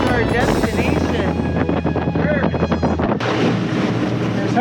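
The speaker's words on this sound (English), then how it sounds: "I was hoping that wind dies" Strong wind gusting across the microphone at a yacht marina, a loud, continuous rumble and buffeting with someone talking over it.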